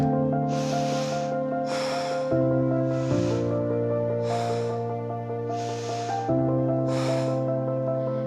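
Slow, deep breaths during a heart-opening yoga pose, about six airy inhales and exhales at a steady rhythm, close and clear over soft sustained background music.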